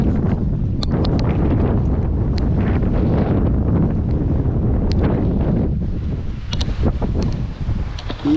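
Gusting wind roars steadily across the microphone aboard a sailboat with reefed sails, in gusts around 17 knots, close and loud with rustling flutters and occasional sharp clicks of gear.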